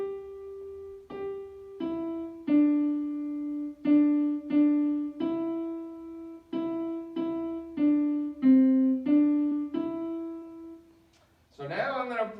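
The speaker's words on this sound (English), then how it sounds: "when we take Mary Had a Little Lamb and retrograde the melody, it sounds like this." Mary Had a Little Lamb melody played in reverse order on a sustained, pitched instrument: about fifteen clear notes in an even, moderate rhythm, close and alone, followed at the end by a brief voice speaking.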